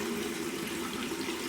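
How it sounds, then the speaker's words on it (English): Hot water runs from a bathroom tap onto a washcloth, a steady, loud, close rushing gush that continues unbroken throughout, with no talking. "What I like to do is run my hot water, take a washcloth, and fully saturate it"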